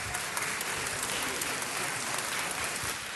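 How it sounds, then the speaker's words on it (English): Applause fills a city council meeting chamber as a dense, steady wash of many hands clapping at moderate distance, continuous throughout with no pauses. "Please, no applause,"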